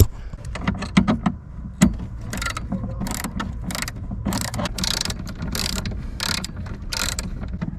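Screws are worked loose beneath a car's glove compartment, giving irregular ratcheting clicks and small mechanical rattles up close, with a few sharper knocks early on, while the heating repair goes on.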